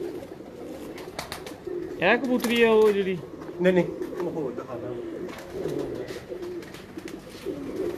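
A female pigeon coos in a short burst around the middle, with other birds faint behind it and people talking over and between the calls.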